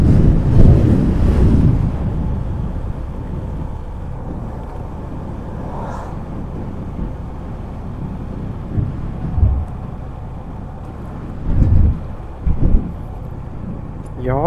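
Strong gusts roar across the microphone on a coastal mountain pass road at Cà Ná, Ninh Thuận, a steady buffeting rush that swells and eases throughout, with a voice speaking briefly in it.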